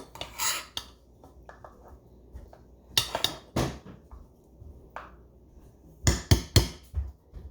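Cooked rice stirred into a pan on a home stove, with sharp scraping clatters of a utensil against the pan in scattered bursts and quiet gaps between them.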